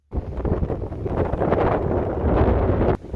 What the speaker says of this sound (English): The wind is really starting to blow.